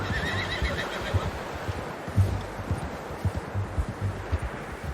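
A horse in the Red Dead Redemption 2 video game neighs in a short whinny near the start, followed by steady clip-clop hoofbeats with light wind and rustling behind and no talk.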